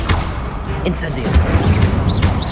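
An Incendio fire spell cast in Hogwarts Legacy, a loud, dense burst of whooshing flame with heavy low rumbling that stays close and fills the short moment.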